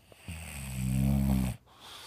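A lazy English bulldog gives a single loud, close snore, a low rattling inhale of about a second that cuts off abruptly, followed by quiet breathing.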